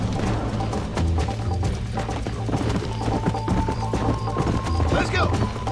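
Galloping horse hooves in Red Dead Redemption, a quick steady clip-clop with occasional thuds over a droning game soundtrack, and a voice in the mix.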